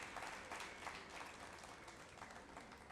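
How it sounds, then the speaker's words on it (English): Steady applause from an audience at a summer exhibition event, a dense, even wash of clapping lasting the whole few seconds, moderately distant with no voices over it. "A big round of applause for all of them"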